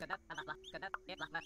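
A chicken clucking in the farming video game Dinkum, a quick series of short clucks and squawks in a choppy rhythm, fairly faint and heard alone.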